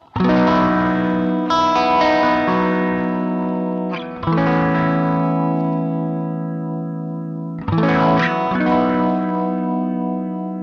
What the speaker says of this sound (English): You can hear the phaser a lot more when you turn the rate up